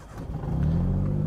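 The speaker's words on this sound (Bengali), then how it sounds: "ইঞ্জিনের সাউন্ড আপনারা শুনতে পাচ্ছেন।" A 2007 Maruti Alto's engine starts and revs up close by, its low mid-pitched hum swelling into a steady, louder drone over about a second and a half, with no talking.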